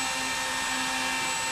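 An E-flite P-51 Mustang model plane's electric motor and propeller run steadily at just over quarter throttle, a constant loud whine with a sustained tonal hum and no talking.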